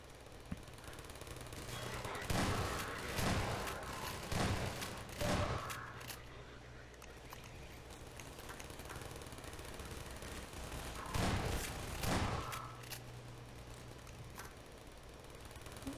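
Rapid bursts of automatic turret gunfire in the video game Half-Life 2, in clusters around the middle and again later, over a steady low engine-like hum.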